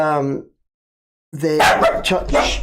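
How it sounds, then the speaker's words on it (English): A dog outside barks loudly several times with harsh, yelping barks, close to the microphone. Before the barking there is a short stretch of talk, then a pause. "The dog outside."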